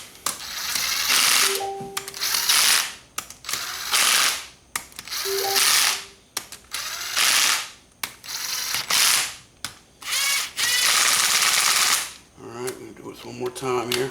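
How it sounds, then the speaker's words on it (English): An impact wrench runs down bolts on a Banshee cool head in repeated loud, rattling bursts, each a few seconds long with brief pauses between, and a faint whine in places. "we're going to go ahead and run these down with an impact lightly just to get them close"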